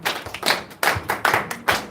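A small gospel class claps in a handful of distinct, uneven rounds, each burst sharp and near, with gaps between, sounding like a few people rather than a large crowd.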